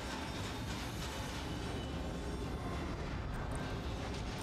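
A train rumbles along in the video game Little Nightmares 2, a dense, loud, continuous roar of rolling wheels and rattling cars with faint clicks on top and no speech.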